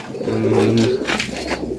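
Pet pigeons cooing close by in a short burst, a soft throaty rolling coo followed by a few quick chirpy notes, with no talking over it.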